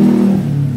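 A car engine revs under the throttle with a worn fan belt roller rumbling and groaning, the tone steady and then dipping slightly, close and loud with no talk.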